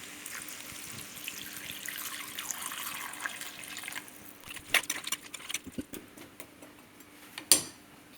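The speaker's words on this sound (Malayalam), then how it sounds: "ചേന വേകാനായിട്ട് കുറച്ച് വെള്ളം ഒഴിച്ചു കൊടുക്കാം" Water pours into a pan of elephant yam pieces in a faint, gurgling stream, followed by a few quiet clinks and splashes near the end.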